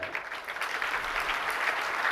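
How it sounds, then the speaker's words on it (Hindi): Audience applause, a steady wash of clapping from many hands held at a moderate, even level, heard alone. "ये ताली कहाँ क्यों बज रही है?"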